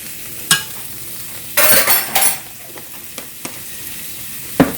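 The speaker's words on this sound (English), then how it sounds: "We just want to stir that around until everything is, the onions are tender" Chopped onions and minced garlic stirred in a frying pan, giving a low sizzle with a few sharp utensil clinks and scrapes against the pan, close and intermittent, with no speech.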